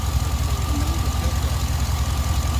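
A Chevy Tahoe engine idles after a heater hose repair, a steady low, pulsing rumble with a faint knock, close to the microphone and loud, with no voices.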